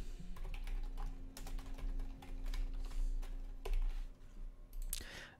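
Someone types a name on a computer keyboard: a close run of quick, uneven key clicks and taps in short bursts, with no talking.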